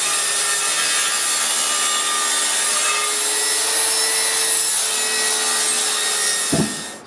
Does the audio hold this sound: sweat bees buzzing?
no